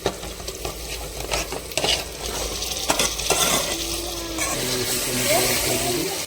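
Steady frying sizzle of chicken with chili and coriander powder for biryani, with stirring scrapes and a few clinks of utensils against the pan, close and continuous, with faint background tones.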